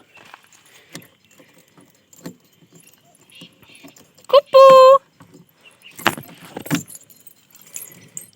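Keys jangle in short bursts near a parked family car while the key is tried, with a brief loud whistle-like tone midway and people talking throughout.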